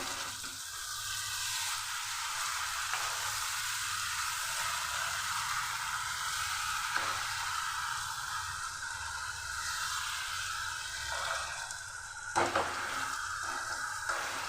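Chicken and cauliflower cooking in a pan after salt and a little water go in, a soft steady sizzle and hiss with faint stirring scrapes, fairly quiet and continuous, no voices.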